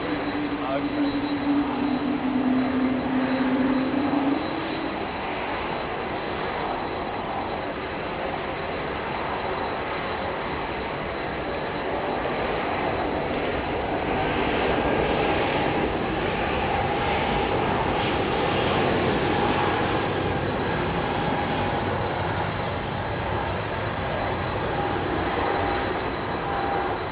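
Jet airliner engines at London Heathrow Airport roar steadily for nearly half a minute, a loud sustained drone with a faint high whine, and a brief low hum near the start.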